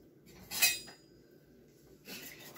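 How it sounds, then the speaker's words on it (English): Metal utensils clink against dishes as a whisk is fetched in a home kitchen during vegan cauliflower sandwich prep, two short bright clatters about 1.5 seconds apart, moderately close with no talk. "Actually, let me get my whisk."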